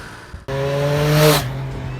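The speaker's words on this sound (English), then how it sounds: "The best soundtrack of the motorcycle is heard as you proceed" Triumph Street Triple R motorcycle engine rising sharply in pitch toward the rev limiter, a loud, steady high-revving howl for about a second before easing off, heard alone.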